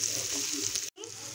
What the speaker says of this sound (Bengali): খুব ভালোভাবে ভাজা হয়ে গেছে পেঁয়াজগুলো